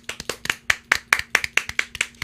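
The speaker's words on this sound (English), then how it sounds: "Clap." Slow, even hand clapping, about a dozen crisp claps in a regular rhythm, close and fairly loud, with no talking over them.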